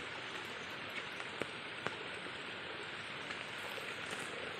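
Heavy monsoon rain pours steadily in the Konkan region, a dense continuous hiss of drops on surfaces with a few sharper splashes standing out, with no voices.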